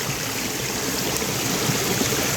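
A small jungle waterfall and stream in the Khlong Prap hills rush steadily and close, a dense unbroken wash of flowing water with no voices.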